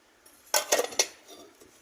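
A metal utensil stirring food in a pot gives a few sharp close clinks and scrapes in a quick burst, then fades to quiet, no talk.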